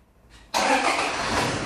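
A Toyota Hilux engine cranks briefly, then catches and starts, settling into a loud, steady running note close by with no talk over it.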